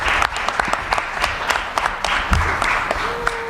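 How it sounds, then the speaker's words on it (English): An audience at a high school African American history academic challenge applauds the parents and guardians. The clapping is steady and moderately loud, with distinct individual claps over the crowd, and it lasts the whole few seconds. "a big round of applause for all the parents and guardians that we have"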